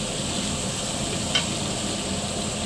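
Ginger-garlic paste, roughly 200 grams each of ginger and garlic, sautéing in a pot for mutton biryani, giving a constant dense hiss of frying with a single faint clink partway through.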